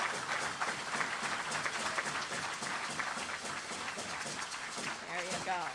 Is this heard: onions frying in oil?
no